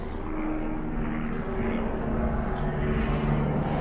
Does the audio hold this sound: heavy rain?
no